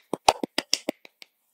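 Hands clapping quickly: a rapid run of about eight sharp, close claps, the first few loud and the last ones softer and more spaced out, heard without talking.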